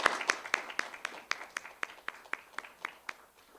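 Scattered applause for a choir member's solo song at a church service, a small group clapping in a steady, fading run of claps, moderately close with a reverberant room.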